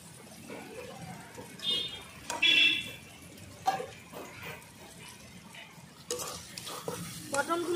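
A spatula scrapes and stirs a spice masala with sugar in a frying pan for oily pointed gourd curry, with uneven scraping strokes over a soft sizzle and a few sharper knocks.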